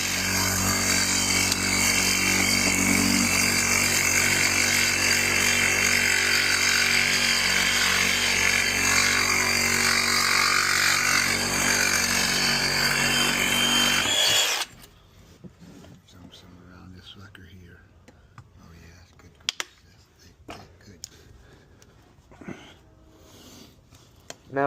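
A power saw grinds steadily through an old cast iron drain pipe, a loud continuous buzzing cut lasting about fourteen seconds before it cuts off, followed by quiet clicks, handling noises and brief voices.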